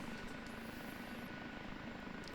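An OH-58D Kiowa Warrior helicopter in the DCS flight simulator hums steadily as power comes up, a faint, even turbine and rotor drone that continues without pause and without speech.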